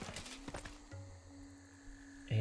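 In the strategy game Civilization VI, a horse gives a short whinny and hooves clop at the start, followed by a quieter stretch with sustained game tones and faint ambience.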